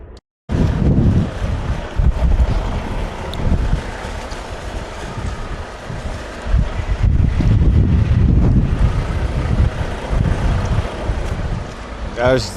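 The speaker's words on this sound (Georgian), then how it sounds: "ძალიან ქარია რა" Strong, gusty wind buffets the microphone beside a truck on an American road, a loud continuous rumbling roar with surging gusts; a voice is faintly audible under it.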